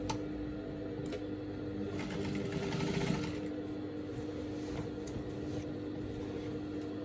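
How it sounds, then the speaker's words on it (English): A sewing machine stitches a pant waistband, its needle running in a steady, close whir with a faint rise and fall in speed and no talking. "I'll just go ahead and match the waistband like so, still on the right side."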